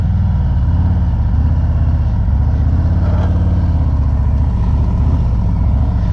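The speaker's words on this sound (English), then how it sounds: "So I give it a little throttle. I'll get right into that beginning of the friction zone." A heavyweight motorcycle engine runs at low throttle while the clutch slips in the friction zone, a steady close, deep idling-like thrum with slight swells.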